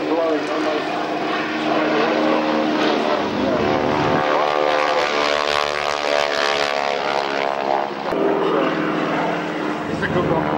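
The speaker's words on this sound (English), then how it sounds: "Steerman comes by, give a good wave." A Stearman biplane's radial propeller engine drones loudly as it flies past at the Duxford autumn air show, the pitch shifting as it passes, with someone speaking over it.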